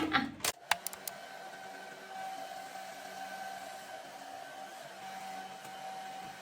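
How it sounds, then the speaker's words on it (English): A handheld hair dryer blows on hair during an at-home butterfly haircut, starting after a few sharp clicks and then running as a steady, close, even whir to the end. "and then blow dry it. And this is what we're gonna do now."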